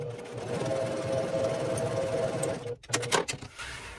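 A sewing machine joins quilt blocks made from bandanas, running steadily up close for a few seconds, then halting with a few short bursts and clicks as the fabric is handled.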